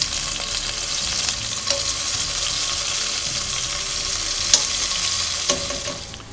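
Minced garlic cloves sizzling in a hot pan for a home-cooked tomato dish, a steady close hiss of frying with occasional clicks of stirring and no talk.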